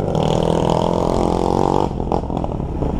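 A motorcycle engine revs hard and close, a loud rising whine that holds for a couple of seconds, then drops off into rougher, choppier engine bursts.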